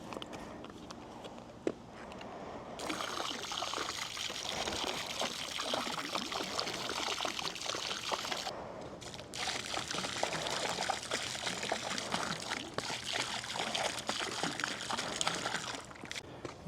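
Muriatic acid poured from a jug into a swimming pool being treated for high pH, a steady close splashing trickle running almost continuously with a brief pause partway through.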